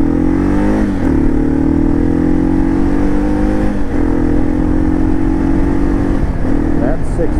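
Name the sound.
2012 Kawasaki KLR 650 motorcycle accelerating up a hill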